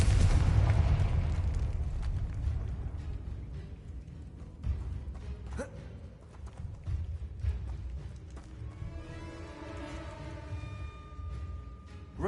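In Hogwarts Legacy, a Confringo blasting spell bursts in a heavy rumbling explosion at the start, then fades into lighter crackles, thuds and a brief ringing tone over the game's ambience.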